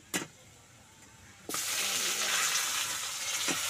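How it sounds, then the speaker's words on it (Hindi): Chopped tomatoes tipped into garlic already frying in a pan in a village kitchen, a sharp clatter followed by a sudden loud, steady sizzle that continues close and alone. "रसुन आदि भुंजा गया है अब टमाटर को डा, डालते हैं"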